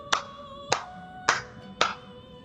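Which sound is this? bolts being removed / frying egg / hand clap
hand clap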